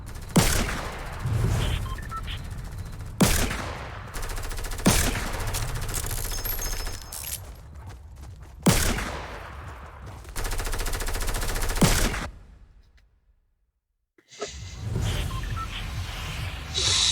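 Fortnite video game gunfire rattles in sustained bursts, loud and close, broken by sharp single shots and a short silent gap near the end before the firing resumes.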